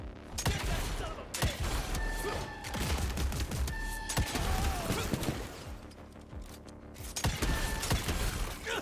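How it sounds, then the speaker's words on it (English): Retineer rifle fire in the video game Evil West, a dense run of sharp shots and impacts packed against busy game effects and mechanical whirs, loud and close throughout. "Use the Retineer rifle to shoot glowing weak spots."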